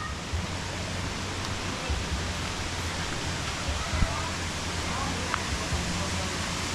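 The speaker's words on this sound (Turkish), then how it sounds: "Şurada bir şelale var. Bu şelaleyi sanırım yapay olarak yapmışlar herhalde." Steady, broad rushing of water from an artificial waterfall at an outdoor visitor spot, a constant full hiss with no pauses and a few faint clicks mixed in.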